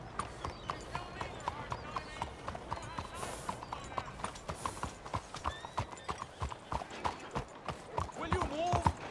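Rhythmic clip-clop of horse hooves trotting steadily throughout, with a brief whinny near the end and bits of speech underneath, from the video game Red Dead Redemption 2.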